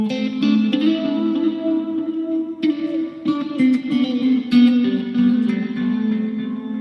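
Clean electric guitar through a Boss GM-800 rig playing sustained chords with phaser modulation, repeating delay echoes and a wide reverb tail, steady and fairly loud with no voices.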